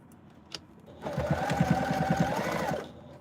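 A sewing machine runs at a steady pace with a rapid, even mechanical chatter, stitching a binding strip onto a tote bag, close and clear for about two seconds after a brief click.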